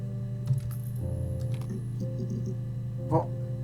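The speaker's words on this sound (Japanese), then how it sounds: "ごめんなさい、タイピング遅くて。" Keys clack on a computer keyboard in a few scattered taps while playing a detective interrogation game, set over a steady low hum with a couple of louder strikes.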